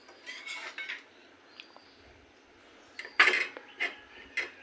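Metal clinks and clatters near a pot of mango dal as its lid goes on, with a few sharp knocks in short bursts and quiet pauses between.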